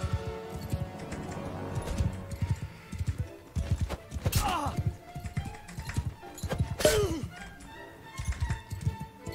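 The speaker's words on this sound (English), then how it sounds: "Man, my horse is so slow." Horse hooves galloping in the medieval battle game Mount & Blade II: Bannerlord, a steady rhythmic clatter running through the whole stretch beneath battle noise, with a couple of sharp swooshing hits breaking in midway.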